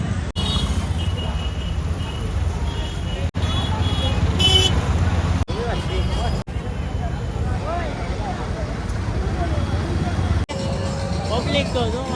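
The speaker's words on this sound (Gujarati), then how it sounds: "તો ભાઈ ટ્રાફિક તો જો આમાં કેમ ગાડી" Dense city road traffic on Adajan Road in Surat during the 2024 Ganesh visarjan: a steady roar of engines and road noise with car horns tooting now and then, and faint voices mixed in.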